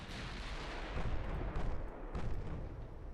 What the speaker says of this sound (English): we hit him with a 15-inch gun right off the bat